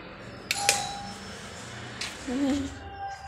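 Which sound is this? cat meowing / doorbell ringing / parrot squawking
doorbell ringing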